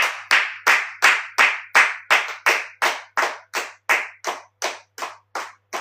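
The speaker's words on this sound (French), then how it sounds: "On acclame la parole" A church congregation claps in unison to acclaim the word, about fifteen sharp, evenly spaced claps at a steady, brisk rhythm, with no talking.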